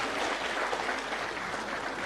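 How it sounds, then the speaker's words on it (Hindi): A crowd at a government appointment letter ceremony claps steadily and evenly, a dense wash of hands held at moderate distance with no voices above it. "तालियां जरूर होनी चाहिए आपकी तरफ से।"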